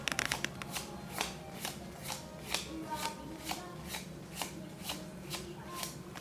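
Magic trading cards being handled and sorted during a Secret Lair unboxing, a steady run of about a dozen crisp, close riffling card snaps at a regular rhythm, with no talking.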